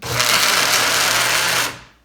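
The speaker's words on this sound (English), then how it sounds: "And then you take all the paper and put it in Mr. Blender." A blender pulps torn paper and water for homemade paper, giving a loud, steady whirring roar that runs for almost two seconds and then cuts off and winds down. No one speaks.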